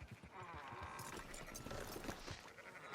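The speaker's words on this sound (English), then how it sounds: "Fine sheep." Sheep bleat faintly in Red Dead Redemption 2 against a busy game soundscape with hoof clip-clop, several short bleats under low ambient noise.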